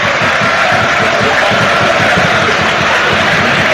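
Norwich City football fans applaud in a packed stadium during a match against Oxford United, a dense, continuous wash of crowd noise with rhythmic clapping throughout.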